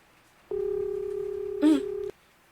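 A phone rings during an audio call as one steady electronic tone lasting about one and a half seconds, clear and alone, with a brief warbling burst near its end.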